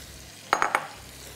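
Chicken marinated in yogurt, ginger, garlic and spices is stirred in a hot pan, making three quick scraping clinks close by in an otherwise quiet moment.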